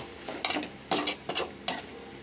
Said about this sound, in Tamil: தக்காளியை போட்டுக்கலாம் இது கொஞ்சம் நல்லா வதங்கட்டும்